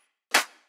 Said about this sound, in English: So here I just use the snare.